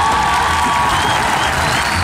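A crowd at a political rally marking sixty years since Evita's death cheers and applauds, with dense, loud, continuous noise and shouts through the whole short moment.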